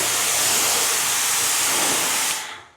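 Water spray rinses a car windshield, a loud close continuous hiss of spraying water that cuts off abruptly near the end, with no talking.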